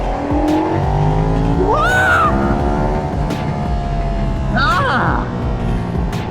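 A Ducati Panigale V4S motorcycle ridden at speed, its engine roaring loud and steady with rising and falling revs and wind rush throughout.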